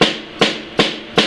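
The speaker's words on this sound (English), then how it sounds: "some snare drums you hit them low like this" A Super Snare drum is struck softly four times in an even rhythm, each hit a close, crisp crack with a brief rattling decay and no talking.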